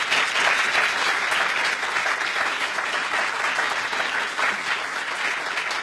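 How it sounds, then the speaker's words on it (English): Audience at the close of a professional society's recorded interview session applauding the guest, sustained dense clapping from a room full of people, even and fairly loud from start to finish. "So if we could give everyone could give Frank a round of applause."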